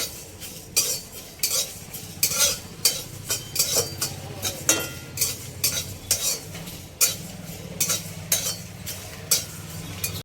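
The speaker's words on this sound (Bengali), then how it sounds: "গোটা ধনে 1 চামচ আর গোটা জিরে কিছুক্ষণ ছেঁকে নেব।" Whole coriander and cumin seeds dry roasting in a pan for Bengali aloo chop, with a steady run of scraping stir strokes and light clinks close up, no voices.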